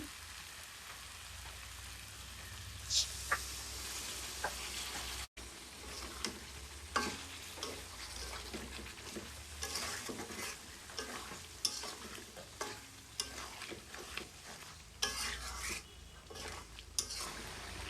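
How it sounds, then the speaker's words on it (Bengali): Beef braises with spices, cinnamon and cardamom in a pan for beef khichuri, giving a steady hiss and sizzle with repeated scraping stirs throughout, quiet and with no talking. "আমি মশলার সাথে মাংসটা কষানোর জন্য একটু পানি দিয়ে দিই।"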